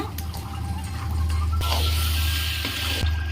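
Water poured into a pan of spicy village-style chicken fry, a steady splashing pour over a low constant background hum, close and moderately loud, with a brief sharper splash near the end.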